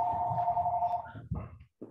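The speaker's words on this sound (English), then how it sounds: "Somebody has a phone call." A phone rings during a library board meeting: a steady electronic tone held for about a second over low murmuring room noise, then fading out as the room quiets.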